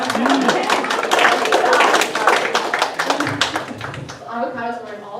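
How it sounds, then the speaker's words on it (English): Audience applause during a Lutheran church sermon, a dense burst of clapping under a speaking voice that fades toward the end. "Give them a round of applause."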